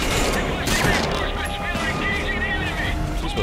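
Video game gunfire in Metal Gear Solid V: Ground Zeroes crackles in a dense, continuous barrage under steady game noise, while a voice talks over it.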